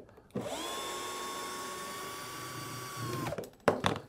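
A power drill whirs steadily at one pitch for about three seconds, then stops, followed by a couple of sharp knocks.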